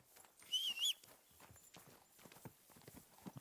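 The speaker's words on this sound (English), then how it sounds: "Cavalo lerdão, mas... dá um grau" Hooves of a slow horse clip-clop in a video game, a steady run of soft, close footfalls with a brief brighter tonal game sound near the start and no talk.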